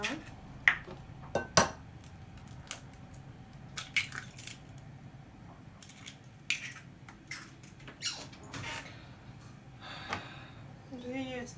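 Two eggs cracked into a bowl for a banana semolina cake batter, with sharp little cracks and clinks of shell against the rim spread through the stretch, fairly close and quiet against a soft room background.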